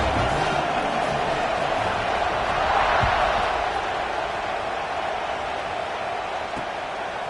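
A football stadium crowd in Arizona at kickoff, a steady broad roar that swells slightly around the middle and holds at a loud, constant level throughout.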